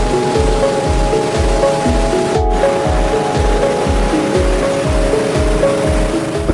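Floodwater rushing over the Katulampa weir in Bogor after heavy rain, a loud, continuous roar of churning water with rhythmic low surges, close and unbroken, with no voices.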